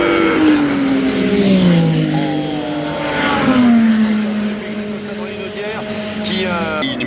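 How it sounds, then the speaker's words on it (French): Race cars at Le Mans, an Oreca prototype overtaken by a Ferrari, roar past with engine pitch sweeping down as they go by, under continuous talk. "Le pilote de l'Oreca s'est déplacé sur le côté droit, dépassé par la Ferrari"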